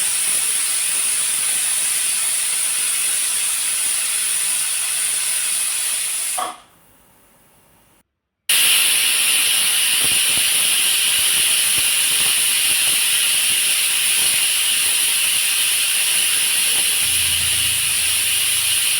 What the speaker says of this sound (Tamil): ரெண்டு விசில் விட்டுக்கோங்க. லாங் விசில் வர்ற வரைக்கும் விடுங்க.